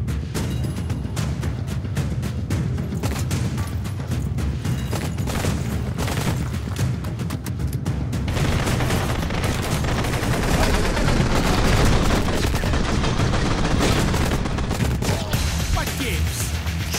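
Rapid gunfire from the Blue Estate video game, dense bursts of shots crackling continuously over a busy mix of game music and effects, with talk in between.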